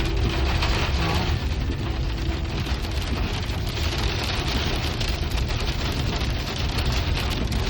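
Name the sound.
hailstorm on a mountain road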